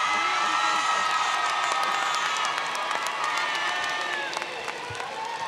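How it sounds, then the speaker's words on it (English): Graduating seniors at a 2014 James Madison High School graduation ceremony give a standing applause, a loud, dense, sustained wash of clapping with cheers and whoops from a large crowd that eases slightly toward the end. "seniors, you need to stand up and give them an applause"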